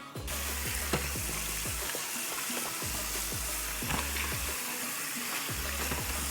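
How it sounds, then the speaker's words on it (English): Bone-in meat sizzles steadily in a pot as the base for a Persian ghormeh sabzi stew, a dense continuous frying hiss with scattered pops and occasional stirring knocks, close and loud without any talking. "It is frying right now."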